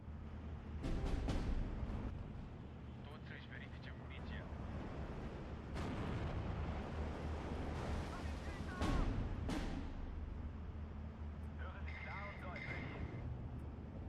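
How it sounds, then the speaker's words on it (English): Artillery fire in the Steel Division 2 war game, faint distant booms and scattered crackling blasts over a low rumbling battle bed, with a few sharper impacts spread across the stretch. "check out that artillery"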